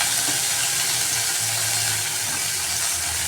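Pumpkin pieces fry in a pan of oil with black cumin seeds, a loud, dense, continuous sizzle with no voices.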